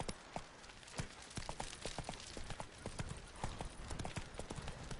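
Hooves of the horse Roach clip-clop steadily in a video game, a brisk rhythmic stream of crisp hoofbeats, close and continuous, with a brief voice over them.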